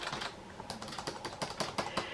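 Keys clatter on an InnovACE Black&White 310 laptop keyboard running Windows 95, a quick irregular run of close, crisp taps.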